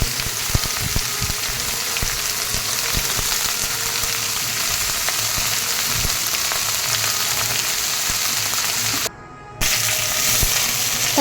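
Peeled vegetable stems and eggplant frying in hot oil with bay leaf and fenugreek, a loud, dense, steady sizzle with occasional stirring and a brief dropout near the end.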